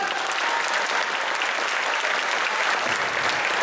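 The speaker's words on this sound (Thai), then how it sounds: "คนไทยปรบมือกับคนไทยด้วยกันดังๆ" Loud, steady applause from a crowd at a comedy magic show, continuous clapping filling the whole stretch without pause.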